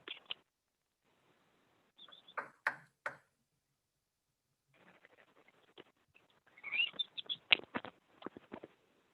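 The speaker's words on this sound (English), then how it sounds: "Is that a bird in the background?" Brief high chirps and clicks, like a bird calling, sound faintly during a hearing's remote call. They come in scattered bursts with long quiet gaps between them.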